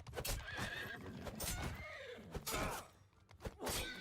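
A horse in the Empires of Europe video game whinnies sharply several times over rapid clip-clopping hooves and thuds, loud and close, with a battle commotion around it.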